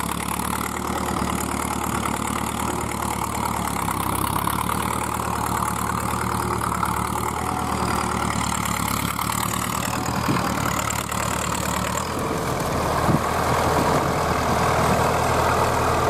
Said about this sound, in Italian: Uno spettacolo di trattore restaurato, che è uno spettacolo.